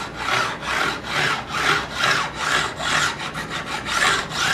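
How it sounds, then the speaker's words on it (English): A file is drawn back and forth across the guitar frets on a fingerboard to level them, giving a steady, rhythmic rasping of about seven even strokes, close and alone. "level it with a file"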